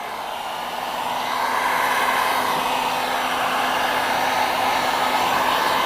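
A heat gun blows a steady, loud stream of hot air over holographic honeycomb tint film on a car tail light, rising slightly in strength after the first second and then holding an even roar with no talking.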